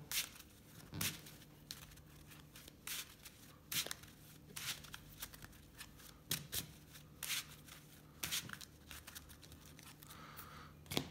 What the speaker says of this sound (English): Go ahead and do a shuffle.